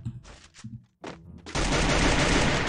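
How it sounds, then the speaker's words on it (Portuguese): Gunfire in the mobile battle-royale game Free Fire, a few short bursts of shots with brief gaps, then a sustained dense volley of rapid fire filling the second half. "Tomando tiro de Alp."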